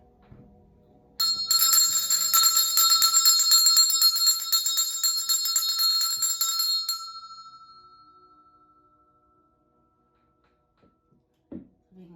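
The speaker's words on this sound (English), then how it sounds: "we're going to go ahead and ring the bell." A small bell is struck once during a tarot reading to clear the deck's energy, ringing bright and clear, then fading slowly over several seconds into near silence, followed by a faint soft tap.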